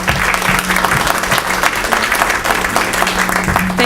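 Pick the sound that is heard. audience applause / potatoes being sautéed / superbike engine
audience applause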